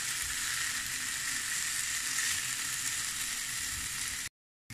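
Blood sausage (morcilla) fries in a pan while being stirred, giving a steady, close, loud sizzle that holds evenly before cutting off briefly near the end.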